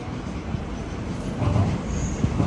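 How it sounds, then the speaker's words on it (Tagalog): Shinkansen bullet train pulling into a station on the Kyoto to Tokyo route, a steady low rumble of the rolling train filling the platform, close and continuous. "Sinintay lang namin yung tren. Yung bullet train."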